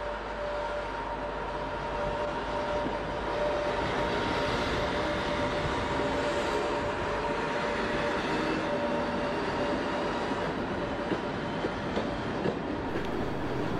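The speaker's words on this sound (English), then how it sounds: "the Kingsman leaves with service 1F40" Class 86 electric locomotive 86417 "The Kingsman" departing London Euston with an express to Liverpool Lime Street in the 1980s, a continuous loud electric whine and rumble with a steady tone, no voices.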